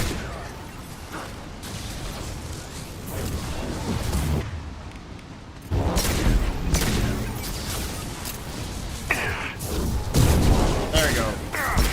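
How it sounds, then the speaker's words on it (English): Flashbang grenade in Mass Effect Legendary Edition combat bursts amid loud, dense battle noise, with booms and a sudden surge of sound near the middle, continuous gunfire-like clatter around it, and a voice talking. "Goddamn flashbang."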